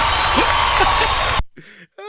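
Podcast hosts clapping in a studio, a dense burst of claps and cheering for over a second, then it cuts off abruptly to near silence with brief voice sounds.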